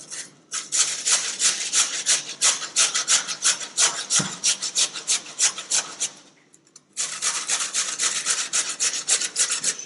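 Food rubbed against a hand grater in a catering kitchen, with steady rhythmic rasping strokes close up, a brief pause near the middle, then grating resuming at the same even pace.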